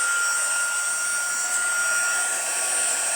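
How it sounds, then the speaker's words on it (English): A heat gun blows hot air over embossing powder on a handmade card, a steady loud high-pitched whooshing roar that holds continuously without pause. "we're going to bring our heat gun over here, and I apologize for the noise that it's going to make"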